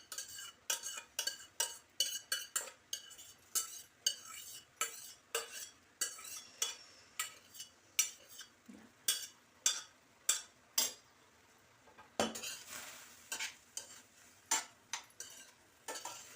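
Vegetable pieces stir-fried in a pan for a dry curry, with a utensil scraping and clacking against the pan in steady repeated strokes, close and fairly quiet, with a faint sizzle.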